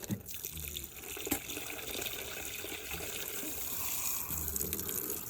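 Water pours steadily from a container onto a goat's head outdoors, a faint continuous splashing and trickling with a few sharper drips.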